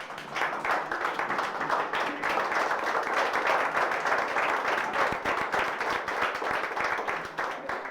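A church congregation applauds with dense, sustained clapping that holds steady throughout, filling the room at a fairly loud level.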